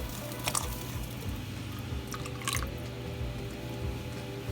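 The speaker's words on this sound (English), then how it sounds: "After it comes to a boil, we will add in the milk" Milk being poured into boiling masala chai in a pot, a quiet liquid splash and gurgle with a couple of brief louder spurts over a low steady bubbling background.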